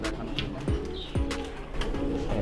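Pigeons in a racing-pigeon loft coo repeatedly close by, soft throaty coos in quick succession with a few faint chirps around them and no talk.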